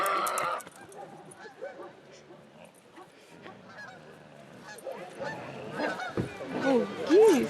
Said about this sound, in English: Oh, geese.